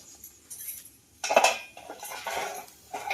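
A nonstick appe pan and its lid are handled, giving a few irregular metallic clinks and scrapes of cookware, close and fairly loud, with no talking.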